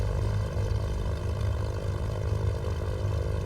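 A Cessna 310 twin piston engine idling at 1000 rpm in a flight simulator, a steady, unbroken propeller drone with an even buzzing hum holding at constant level throughout.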